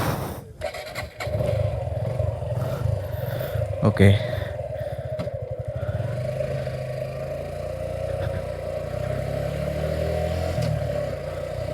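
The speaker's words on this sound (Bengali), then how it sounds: "তো এখন বাইকটাকে স্টার্ট দেই।" A Suzuki Gixxer SF FI ABS motorcycle engine cranks and fires up, then settles into a steady, smooth idle that carries on throughout, with a person speaking briefly near the start.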